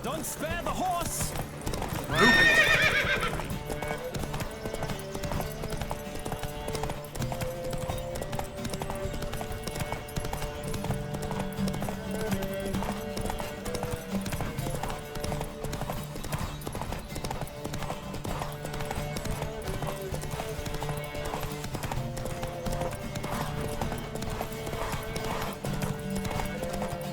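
Horses gallop in a race in the video game The Witcher 3, with rapid rhythmic hoofbeats throughout, a whinny near the start, and voices heard over the pounding hooves.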